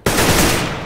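A loud, close burst of rapid gunfire in the video game CS:GO fills nearly the whole moment, with a second sharp report at the very end.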